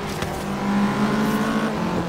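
A Renault Mégane drives along a road, its steady engine hum holding near and even for about two seconds, with no talking over it.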